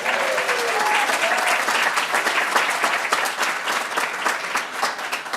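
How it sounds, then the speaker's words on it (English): At a Dr. King Unity Luncheon, the crowd applauds the students with a steady wash of many hands clapping, sustained for several seconds with slight swells and a faint voice near the start. "can we give a round of applause to the students?"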